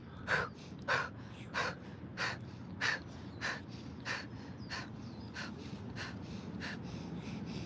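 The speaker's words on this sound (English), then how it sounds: "some breath of fire. So exhale, pull your belly in, and let the inhales happen automatically" Forceful breath of fire yoga breathing: a steady series of about twelve sharp, rhythmic nasal exhales, close and clear, gradually softening over a low background hum.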